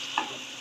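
Goat fat, jackfruit and potato stir-fry with spices in a pan, giving a brief, soft steady sizzle with a faint scrape near the start.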